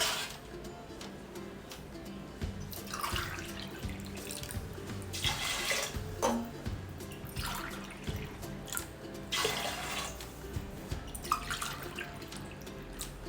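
Water poured into a cooking pot on a kitchen stove, a series of gurgling pours and splashes with brief pauses and drips, fairly close and quiet with no talking.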